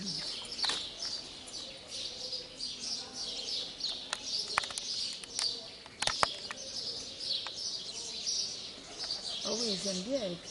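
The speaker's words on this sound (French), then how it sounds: "ils aiment bien les pigeons" Pigeons at an Egyptian temple give soft, rolling coos near the end, among faint chirps and wing flaps over quiet outdoor ambience, with a voice speaking now and then.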